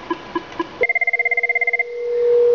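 A Cisco 7970 SIP desk phone rings with an incoming external call, giving a rapid, even run of electronic ring pulses that ends in a sustained tone, close and clear with no talk.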